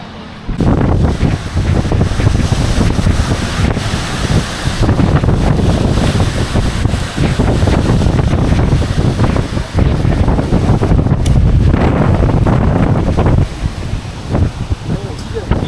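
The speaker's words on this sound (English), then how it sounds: "A little windy." Strong wind buffets the microphone outdoors on a hike around Prescott, Arizona, a loud continuous roar with gusting rumble across the whole stretch as dusk falls.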